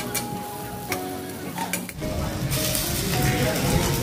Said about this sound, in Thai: ทอดจนหอยกรอบแบบนี้เลยค่ะน่าทานมาก